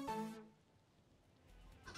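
A Lockabilly creature from the Cassette Beasts video game lets out a short, harsh angry cluck at the start, then a quiet pause and a faint second squawk at the end.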